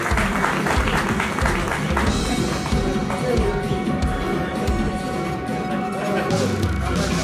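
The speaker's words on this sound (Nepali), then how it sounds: "एकचोटि यहाँको तालीको हामी अपेक्षा गर्छौँ" Sustained, loud applause from an audience at a music award ceremony, a thick wash of clapping with occasional sharper taps and crowd noise, voices faintly mixed in beneath it.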